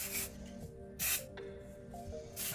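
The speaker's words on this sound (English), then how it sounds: "Nice little aerosol." Aerosol body spray with a Brazilian Mist scent hisses out in three short, close bursts, separated by soft rustling.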